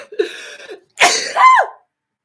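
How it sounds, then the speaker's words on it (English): A single sneeze indoors, close and loud, with a short breathy intake before the sharp burst and a trailing vocal tail, no talk around it. "I'm going to sneeze."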